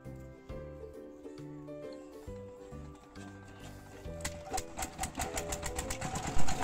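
A sugarcane crushing machine used for making jaggery starts up with chugging, uneven engine pulses. These build into a busy, rattling, rapid knocking, close and fairly loud.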